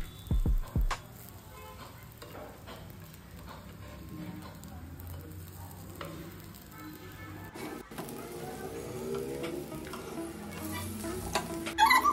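Fenugreek and spinach pieces turned one by one as they fry in a pan, a steady close sizzle with occasional scraping clicks and a few sharp knocks at the start.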